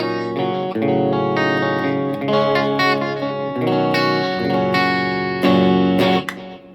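Clean electric guitar on a Kramer "The 84" using one pickup, playing chords and single notes, bright and steady with a slight shimmer, ringing out alone before fading at the end.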